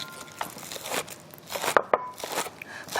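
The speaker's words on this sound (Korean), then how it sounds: "나중에 고명으로 올릴 파를 좀 먼저 썰어 볼게요" A knife chops green onions for a garnish on a cutting board, making a series of quick, irregular taps and crisp cuts close by.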